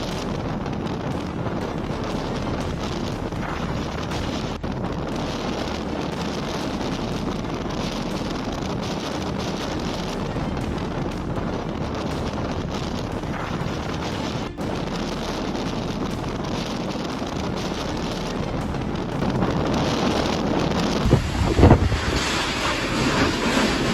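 Typhoon Yagi battering the Chinese coast: a continuous roar of wind and crashing surf with heavy buffeting against the microphone, growing louder and gustier toward the end.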